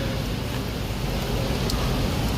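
Heavy rain pouring steadily, a dense, even broadband hiss that fills the whole stretch without pause, fairly loud and close, with no voices over it.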